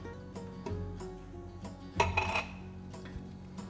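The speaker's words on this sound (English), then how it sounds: "we're gonna take our tomatoes, put half of them in first" Tomatoes go into a cooking pot for tomato bisque, bringing several clear metallic clinks and knocks of pot and utensil, with one louder clatter midway, in a quiet kitchen.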